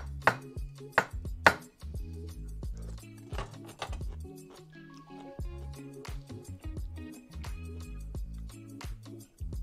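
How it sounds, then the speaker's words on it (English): Sharp, irregular knife chops strike a cutting board, close and crisp, slicing chicory for a topping, mixed with a low steady musical bed underneath. "we're gonna slice a few in slices to use as a topping"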